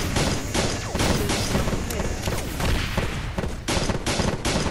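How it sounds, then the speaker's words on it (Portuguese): Machine gun fire and laser blasts from a fight against an alien in the video game Planet Explorers, a dense rapid barrage of shots and booms that runs throughout, with someone talking over it. "Isso, é uma metralhadora."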